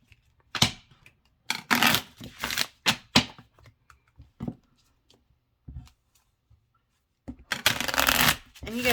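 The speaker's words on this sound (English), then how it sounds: "Get these good and shuffle." Morgan's Tarot cards are shuffled by hand in bursts of crisp riffling and slapping, close up, with short quiet pauses between rounds and a longer shuffle at the end.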